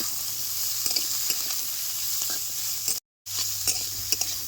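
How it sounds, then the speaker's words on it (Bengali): Potato, cauliflower and onion fry in a pan with a steady, loud close sizzle and occasional stirring scrapes, continuing through a short break, with no talking. "এই সমস্ত সবজিটা ভাজা ভাজা করে নেবো"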